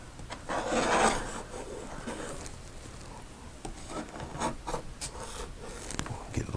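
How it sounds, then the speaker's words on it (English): A paint scraper rasps and scrapes across a painting's surface in a run of quiet, irregular strokes, with a few sharper scrapes near the end. "this is nothing but a paint scraper"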